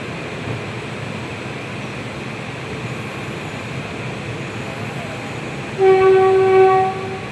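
From aboard a train slowing past track-expansion works, a steady low rolling rumble fills the cabin, then a loud tonal horn-like blast sounds for about a second near the end.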